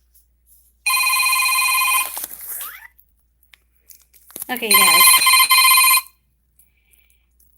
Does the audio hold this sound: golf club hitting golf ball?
no